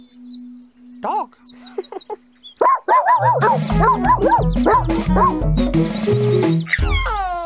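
Dog barks and yips from a Teletubbies animal-themed special, several bright barks sounding amid cartoonish music and voices, busy and loud after a sparse start.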